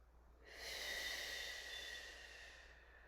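A single long, deep breath drawn through the nose during a hamstring stretch, rising after a brief pause and then slowly fading, close and soft, with no speech.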